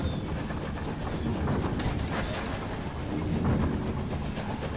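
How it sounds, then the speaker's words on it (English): A dream train ride from the video game Night in the Woods: a continuous low rumble of a moving train with faint rattling and clicking, steady and moderately quiet throughout. "It's like we're on a train."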